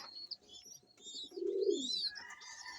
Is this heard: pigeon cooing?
yes